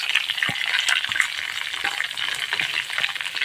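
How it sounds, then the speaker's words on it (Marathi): Large-cut onion sautéing in a pan after fried garlic, a dense continuous sizzle with occasional stirring clicks and scrapes, close and fairly loud with no talking. "कांदा सुद्धा छान दोन ते तीन मिनटं छान असा परतून घ्यायचा आहे"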